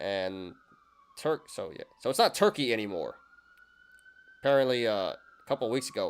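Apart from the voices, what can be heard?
police sirens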